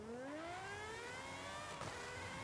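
Engine of a Gordon Murray designed car in Forza Horizon 5, a high-pitched revving whine climbing steadily in pitch under a continuous drone, with a brief break near the end, no talk.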